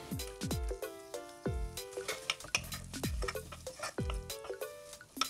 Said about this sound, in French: je vais utiliser le gras du poulet pour faire suer les oignons